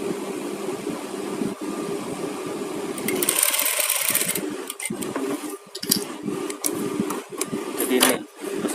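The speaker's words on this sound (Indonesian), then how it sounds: "Kita jahit stik renggang besar sampai tengah, batas tengah ini kita lipat." A sewing machine runs a long basting stitch, its motor giving a steady, fairly quiet whirr that rises and dips with short breaks as the fabric is fed.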